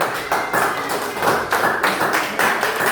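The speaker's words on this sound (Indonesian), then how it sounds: "Ya, tepuk tangan dulu." Classroom of students clapping together in a steady, continuous burst of applause that fills the room, close and moderately loud, with slight surges in intensity and no talking over it.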